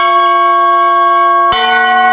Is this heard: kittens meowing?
no